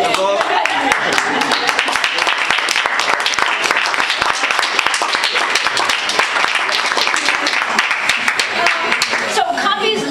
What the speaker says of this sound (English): So we do a round of applause for Monday.